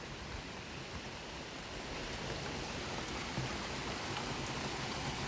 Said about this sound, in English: We are getting some needed rain.